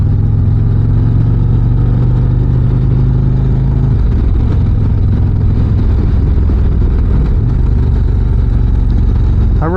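A 2025 Harley-Davidson Street Glide Ultra motorcycle engine rumbles loudly and steadily while riding, its pitch dropping as the bike shifts and then settling back into a continuous drone, with wind noise and no talking.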